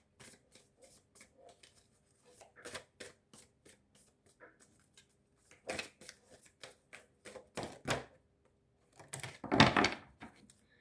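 Tarot-style cards handled at a table, a series of soft riffling and slapping bursts with pauses between, growing louder toward a final flurry of shuffling, close and without talk.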